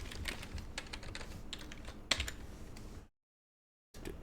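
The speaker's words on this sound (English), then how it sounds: "I need the other keyboard." Rapid typing on a computer keyboard during a crashed game session, dense clattering keystrokes close up for about three seconds, one sharper key hit midway, then a sudden cut to silence before a faint resumption.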